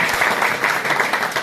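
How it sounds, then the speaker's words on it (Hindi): Audience applause at a National Press Day address by a district magistrate in Bettiah, brisk, dense clapping from a hall that stays steady and fairly close throughout. "अपने लिए तो ताली बजा लीजिए, हमारे लिए नहीं, आपके लिए तालियां बजाना, अच्छे से बजाइए जरा,"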